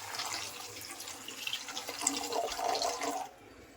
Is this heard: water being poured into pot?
yes